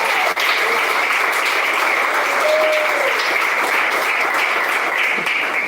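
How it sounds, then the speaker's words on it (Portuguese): A church congregation claps together in praise, a dense, even burst of many hands that runs continuously at moderate volume from start to finish. "Pode bater palmas, glorifica a Deus"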